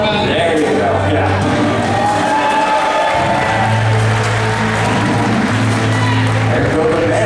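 A live stage-show audience at a Fear Factor Live event at Universal Studios in Orlando, Florida claps and cheers steadily and loudly throughout, a dense crowd roar with voices mixed in.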